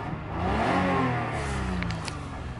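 A 2003 Toyota Avalon's V6 engine runs smoothly, a soft steady hum that swells briefly as if lightly revved and then settles, with no one speaking.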